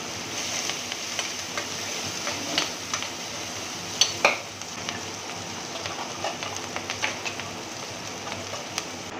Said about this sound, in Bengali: দিয়ে আমি ভাজতে থাকবো পেঁয়াজ কালিটা